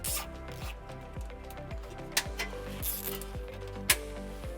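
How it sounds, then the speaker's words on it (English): Zip ties are ratcheted tight to secure trailer wiring underneath a 2016 Toyota RAV4, giving quiet, repeated zipping pulls in a steady rhythm with a couple of sharp clicks. "we'll use some zip ties to secure our wire underneath."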